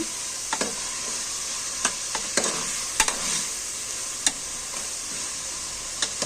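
Tomatoes dropped into a hot pan over a spiced base for Karnataka-style tomato bath, hissing with a loud continuous sizzle while a spoon taps and scrapes at scattered moments.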